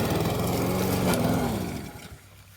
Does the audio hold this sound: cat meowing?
no